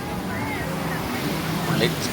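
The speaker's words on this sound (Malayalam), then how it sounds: "വളരെ തിരമാലകളുടെ പൊക്കത്ത് വഴി ചാടി ഒന്നിച്ച് പോവുകയാണ്" Sea waves slap and wash against a small boat bouncing over high swells off Pattaya, with a steady rush of wind and water close by and some faint voices.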